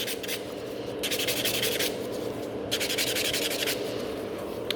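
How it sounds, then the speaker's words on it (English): A white nail buffer files quickly across the middle of a fingernail, giving steady close rubbing and sanding strokes in bursts, with no talking. "So white buffer. I'm just protecting my client's nail folds and filing really in the middle"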